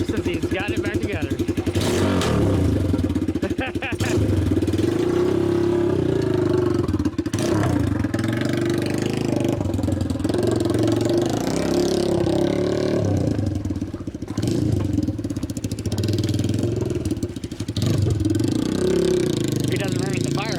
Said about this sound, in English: He's going on his first ride on his bike since he's got it back together.